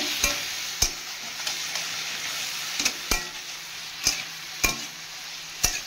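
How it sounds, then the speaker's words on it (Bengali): Belé fish stir-fried in a pan with turmeric and salt: steady close sizzle punctuated by sharp scraping strokes of a spatula roughly every half second to second. "এবারে ভালো করে ভাজা ভাজা করে নেব।"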